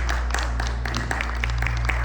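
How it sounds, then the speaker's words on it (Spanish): A church congregation applauds during a Spanish-language service: a brief, dense patter of many hands clapping over a steady low hum. "Dale un fuerte aplauso al Señor Jesucristo."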